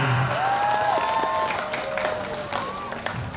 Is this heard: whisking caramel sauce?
no